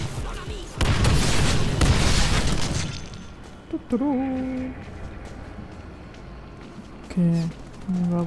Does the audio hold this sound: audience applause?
no